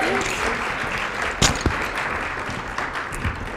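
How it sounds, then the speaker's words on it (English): An audience at a student association assembly in Lausanne applauds together, a broad steady roar of many hands clapping in a large room, with a few louder knocks near the middle. "Again, do an applause again."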